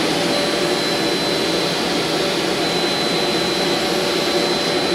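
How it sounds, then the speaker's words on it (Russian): A vacuum cleaner runs continuously while an apartment is vacuumed, a loud, steady whooshing drone that stays constant throughout with no voices. "Сейчас я все пропылесошу и помою полы."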